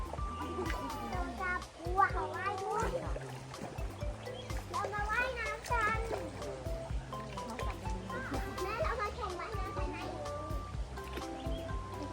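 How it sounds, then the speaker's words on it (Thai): Children play and splash in the water at Khlong Madue waterfall, their high voices chattering and shrieking over a steady rush of falling water, with splashes mixed into the lively, continuous noise. "วันนี้เราอยู่ที่น้ำตกของมาเดือครับ"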